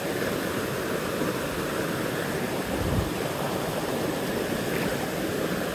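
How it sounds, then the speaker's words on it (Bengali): The Segunjhiri waterfall in Thanchi roars in a dense, continuous rush of falling water, loud and close, with no other sounds standing out. "এই যে ঝর্ণা দেখা যাচ্ছে সামনে, এই ঝর্ণা।"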